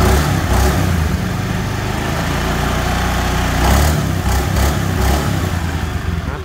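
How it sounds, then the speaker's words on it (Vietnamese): A 2011 Honda Air Blade scooter engine runs loud and close, a steady rough drone that rises in a couple of throttle swells before settling back, with no voices over it. "Tay ga mà lên tiếng máy gì là rất ok nha, êm ấm đó"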